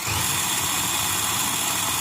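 A Redcat Ascent RC crawler with a 2300kv Spektrum Firma brushless motor runs up to full throttle, giving a loud, steady, high-pitched electric whine close by that holds constant throughout with no voices.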